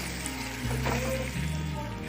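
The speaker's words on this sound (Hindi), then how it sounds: "इसको 1-2 मिनट तक ऐसे ही फ्राई करेंगे।" Potatoes fry in a pan for an aloo-kaddu sabzi, a soft steady sizzle with faint stirring scrapes, close and gentle with no talk.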